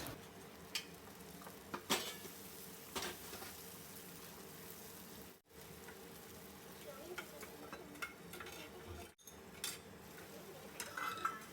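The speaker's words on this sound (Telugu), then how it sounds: "ఇది కూడా ఆయిల్లో ఫ్రై అవనిద్దాము" Tomato paste frying in hot oil in a home kitchen pan, a steady low sizzle with occasional stirring scrapes and utensil clinks throughout, moderately close.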